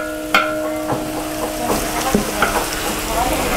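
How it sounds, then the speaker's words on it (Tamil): A large batch of onions fries in a big pot for a 30 kg chicken gravy, with a loud, constant sizzle broken by occasional clanks and scrapes of stirring, and no talk. "வெங்காயம் நல்லா வதங்கிருச்சு."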